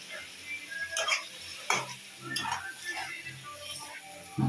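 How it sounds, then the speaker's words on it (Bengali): Chicken being stir-fried (kosha) in a wok, with a few scraping and clinking stirs of the spatula over a soft sizzle, fairly quiet and close. "এখন আমি আরেকটু পানি দিয়ে আবার একটু কষাবো।"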